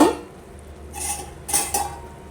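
A metal lid goes onto a cooking pot of bagara rice: a clatter at the start, then a few light metallic clinks and knocks, close by and fairly quiet, with no talking.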